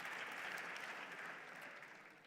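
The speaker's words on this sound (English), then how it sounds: "Yeah, you can start clapping because there's more coming." An audience applauds at an awards ceremony, a steady faint patter of many hands clapping that slowly tapers off, with no speech over it.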